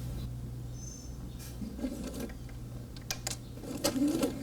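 A sewing machine runs a straight seam during a beginner sewing lesson, giving a low, steady mechanical hum with faint ticking of the needle throughout, close up and fairly quiet.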